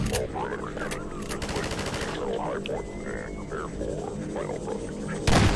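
Rapid gunfire in the shooter game Half-Life 2 crackles in repeated bursts against antlion enemies, mixed with game effects at moderate level.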